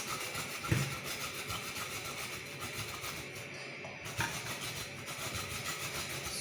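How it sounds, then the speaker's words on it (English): Carrots being grated by hand for homemade carrot oil: a steady, continuous rasping scrape with repeated strokes, close and fairly quiet, with no talk. "Now continue grating it."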